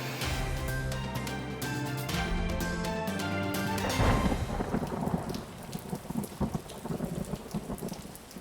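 An April thunderstorm in Austin, Texas, brings steady, dense rain and rolling thunder. A loud crash of thunder sounds near the middle and is followed by continuous rainfall, with no voices.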